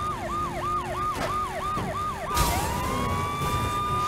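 A police siren wails in Saints Row The Third, a rapid repeating yelp cycling about six times before a crash-like burst switches it to a steady high wail over engine noise.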